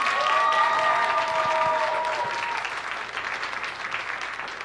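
An audience at a secondary-school show applauds steadily, a dense wash of clapping from a crowd that gradually thins out, with a few faint voices mixed in.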